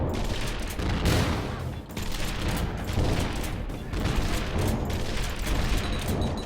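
Rapid gunfire and booming explosions from the video game Angels Fall First crackle in dense, overlapping bursts through combat, with brief dips before the barrage resumes.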